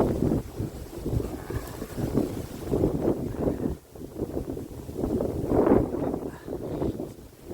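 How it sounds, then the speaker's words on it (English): Gusty wind buffets the microphone in low, rumbling bursts that rise and fall, loud and close, beside a small stream on the River Great Ouse, with no talking. "Bloody windy as well."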